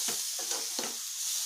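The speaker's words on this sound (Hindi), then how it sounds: "आलू को साथ में डाल के फ्राई करना है थोड़ा सा" Potato pieces with spices sizzling in a pan for an omelette and potato kadhi, under a constant close hiss of frying, with three soft rhythmic scrapes as they are stirred.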